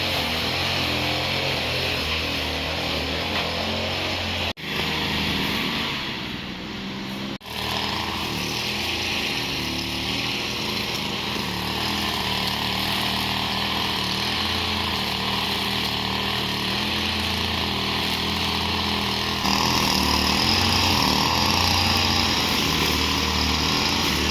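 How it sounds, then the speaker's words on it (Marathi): Grass cutter trimming overgrown grass outdoors in a Konkan village, a steady motor drone running continuously and fairly close, with two brief dips and a slightly louder, brighter stretch near the end. "ग्रास कटर घेऊन, ग्रास कटिंग करतोय"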